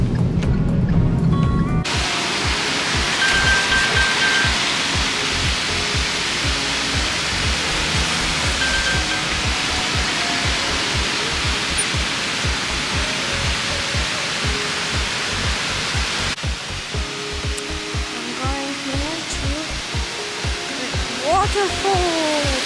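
A waterfall in the Faroe Islands roars as a steady, dense broadband rush throughout, loud and close, with faint voices and a few scattered clicks over the torrent.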